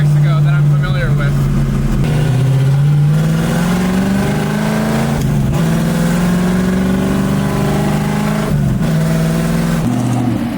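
A 1965 Ford Mustang driving and accelerating on the road, its engine droning loud and steady with pitch climbing through each gear and brief drops at the shifts.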